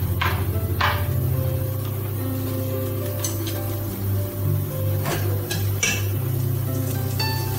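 King oyster mushrooms stir-fry in a pan for a vegetarian beef stew, with scattered clinks and scrapes of a utensil against the pan over a steady low kitchen hum and background drone.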